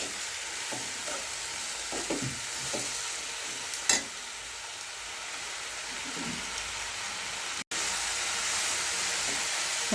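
Large, sour tomatoes sauté in a hot pan for Chettinad vendakkai mandi, giving a steady close sizzle and hiss broken by a few soft clicks and scrapes of stirring, with no talk.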